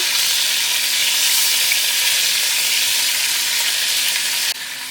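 Pork ribs frying in a pan give a loud, dense, continuous sizzle that stays even throughout, dipping slightly at the end.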